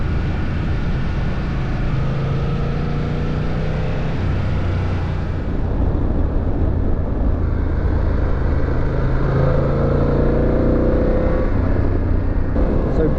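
Motorcycle ride along a winding road on a European tour through France, Germany and Switzerland, with continuous engine drone and wind roar that rises and shifts as the bike accelerates midway.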